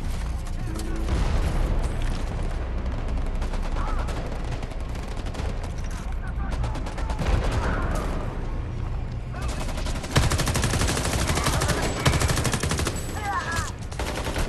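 Rapid gunfire from a gun in Homefront: The Revolution, with dense, continuous bursts of loud shots and booming impacts filling the whole stretch and a voice faintly mixed in.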